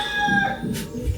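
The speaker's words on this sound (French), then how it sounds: "J'en peux plus de cette poule." A hen squawks loudly close by in a short, harsh, strained burst, with no talking.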